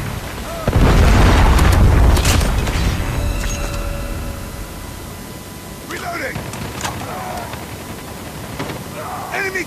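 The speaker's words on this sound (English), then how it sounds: "Predator missile inbound." A Predator missile blast in a shooter video game lands as a loud, sudden boom near the start, with a rumbling tail that fades over several seconds while voices and game sounds carry on.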